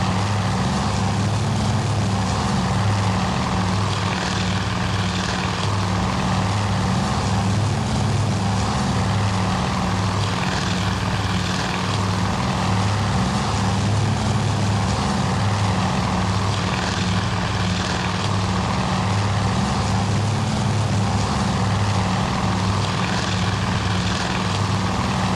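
Bomber aircraft engines drone steadily in a Task Force Admiral naval battle at Midway, a loud, continuous propeller roar with a pulsing low rumble that runs unbroken and fills the whole stretch.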